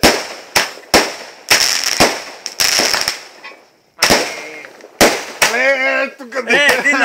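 New Year's Eve fireworks and firecrackers explode in a rapid series of loud, sharp bangs at irregular intervals, some followed by brief crackling. Near the end, people shout and talk over the blasts.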